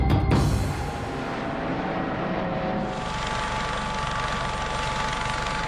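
Sikorsky Boeing SB-1 Defiant helicopter, a next-generation high-speed Army rotorcraft, flying with a steady loud rotor and engine roar that holds nearly constant throughout, after a brief louder burst at the start.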